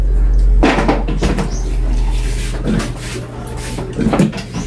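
A wooden drawer or cupboard door in a home is handled, giving several knocking, sliding clunks spread over a few seconds, close and fairly loud against a low background hum.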